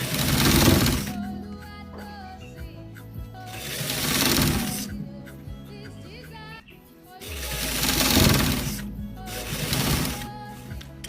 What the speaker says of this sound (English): We are stitching it to the part.